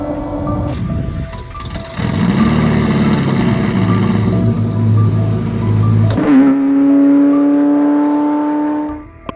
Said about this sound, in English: 1987 Ferrari F40.